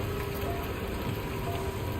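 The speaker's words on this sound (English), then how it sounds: "What was that? Raining." Steady, soft rain hisses evenly across the ground in the video game Death Stranding 2, a fairly quiet and uniform wash of falling drops with no voices.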